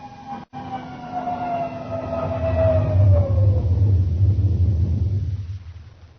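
A science-fiction spaceship sets down on a full repeller ray, heard as a loud descending whine that slides downward over a swelling low rumble, building to a heavy roar before fading out, with no voices.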